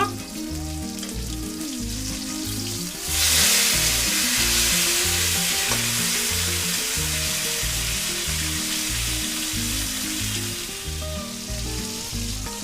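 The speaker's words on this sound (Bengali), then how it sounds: "এবার মাছগুলো ফুটে দেব" Rohu fish pieces frying in hot oil, a loud, dense sizzle that surges abruptly a few seconds in and holds steady and close, over a constant low background hum.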